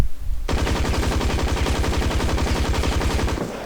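Rapid automatic gunfire in a video game shooter, a loud, dense, sustained burst of shots after a brief quiet start.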